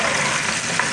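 Chopped onions fry in hot oil for fish biryani, a dense and fairly loud continuous sizzle close by with no voices.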